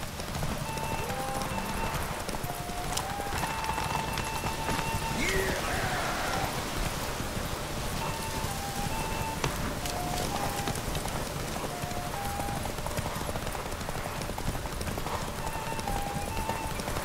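A horse gallops in The Witcher 3, a steady rapid clip-clop of hooves running through rain, continuous and moderately loud, with a faint melodic game score layered underneath.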